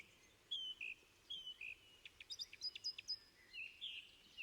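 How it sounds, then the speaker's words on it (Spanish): Two song thrushes sing at once in a quiet outdoor recording, their high, clear, repeated phrases overlapping and alternating in quick bursts. "Pero si cantan dos zorzales"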